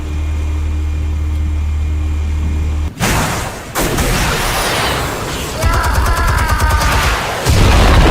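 A loud explosion from the Batman Telltale game hits abruptly after a low hum, followed by rumbling debris and crackling noise that stays dense and loud to the end.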